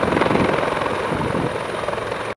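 Honduran helicopter fighting forest fires in Petén, its rotor beating in a steady, loud, close drone that cuts off abruptly at the end.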